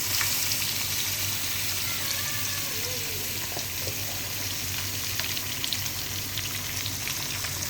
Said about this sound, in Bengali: দেখুন আমরা কিভাবে মাছগুলো ফ্রাই করতেছি